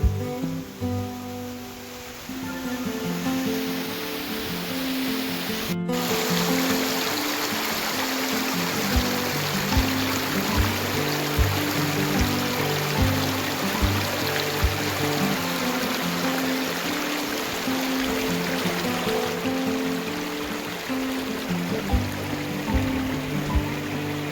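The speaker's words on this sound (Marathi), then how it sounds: "अतिशय सुंदर असा धबधबा" Monsoon waterfall on the trek to Chambhargad fort near Mahad, Raigad, heard as a steady rush of falling water that holds even and continuous throughout.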